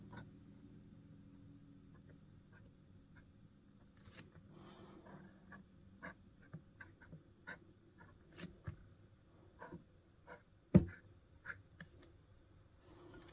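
A Pilot Custom 74 fountain pen with a 1.1 stub music nib scratches softly across paper in short, quiet strokes with faint taps, close to the mic and free of talk.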